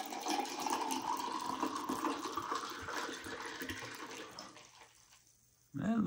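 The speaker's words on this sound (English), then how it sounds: "Pour this in my naked lady glass" Drink poured into a novelty glass, a continuous splashing liquid pour with carbonated fizz that runs for several seconds, then fades out before a short noise at the end.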